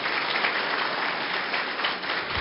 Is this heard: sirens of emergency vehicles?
no